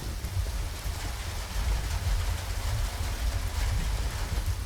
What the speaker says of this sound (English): Listen to the sound of the rain change as I pass under this sheet metal awning.